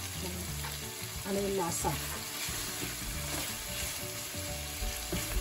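Pork belly frying in a pan for Bulanglang, a steady sizzle with stirring underneath while a person speaks briefly over it, close and fairly loud.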